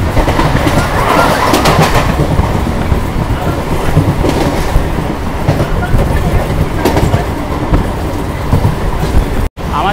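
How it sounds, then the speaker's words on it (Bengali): Local train pulling out of Satberia Halt station on the Bangaon to Ranaghat line, heard from on board as a steady rumble and rattle across the whole stretch, with a brief dropout near the end. "আমাদের ট্রেনটা ছেড়ে দিল সাতবেরিয়া হল স্টেশন থেকে"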